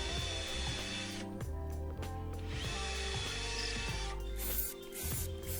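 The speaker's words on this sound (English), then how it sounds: "I'll start the long process of drilling the holes" A power drill whines in two sustained bursts with a short pause between, boring holes steadily into a log at close range with a low mechanical hum underneath.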